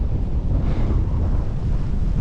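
Strong gusts of roughly 25-mile-an-hour wind buffet the microphone on open Kansas public land during spring turkey season, a loud, continuous low roar and rumble with no talk.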